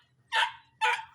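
A chow-chow dog on a small farm gives two short, sharp barks about half a second apart, close and fairly loud over a faint low background hum.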